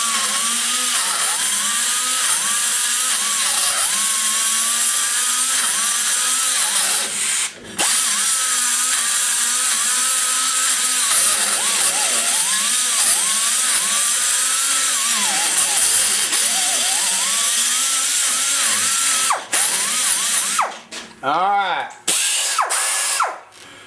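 A handheld power tool grinds material from an LS3 intake port around a stud boss, a loud steady whine wavering as the bit bites, with brief stops and a burst of stop-start cutting at the end.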